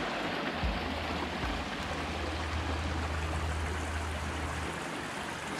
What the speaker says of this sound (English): This beautiful, bubbling, babbling creek.